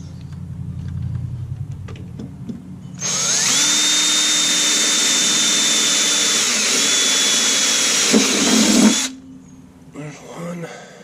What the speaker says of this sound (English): Let's drill a hole.